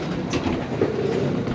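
Polish passenger train running near Warsaw, a steady rumbling roar of the carriage in motion with faint rail clatter, heard close from on board without talk.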